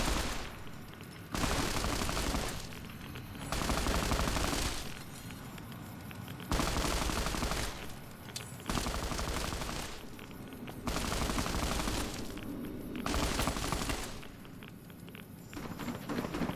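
Automated turret defenses in Fallout: New Vegas firing in repeated loud bursts of rapid gunfire, each lasting a second or two and separated by short gaps, with no talking.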